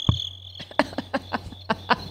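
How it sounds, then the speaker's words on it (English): A cricket sound effect played over talk radio gives a string of sharp, evenly spaced chirps against a steady hum, clear and close with no voices over it. "Crickets. Hear that? Crickets."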